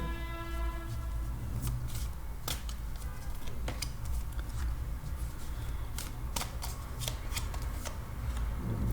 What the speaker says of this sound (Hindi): 7 days ऑफ द वीक के लिए हम निकालेंगे 7 टैरो कार्ड्स।